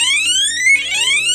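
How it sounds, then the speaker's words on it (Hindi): A homemade electronic cricket stumps alarm sounds when a bail falls, with a loud, close, continuous electronic siren sweeping upward in pitch and then restarting its rise, alone with no talking. "आवाज उनके कानों में जो सायरन की आवाज है वो पड़ जाएगी"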